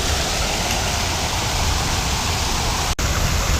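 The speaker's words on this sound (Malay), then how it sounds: "Ini air terjun dia. Nampak tak air terjun?" A lakeside waterfall roars in a loud, steady, unbroken wash of rushing water close by, with only a momentary dip near the end.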